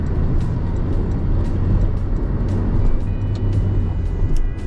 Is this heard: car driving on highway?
yes